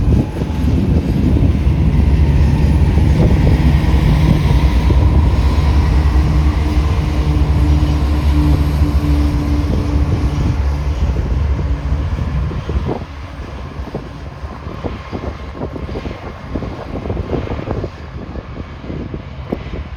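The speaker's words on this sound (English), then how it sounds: "we were able to hear the dynamic brake fans working" A freight train's DPU locomotive passing slowly at close range, a loud, steady low roar and rumble of the dynamic brake fans with buffeting wind noise, easing into quieter rattling and clanking of cars.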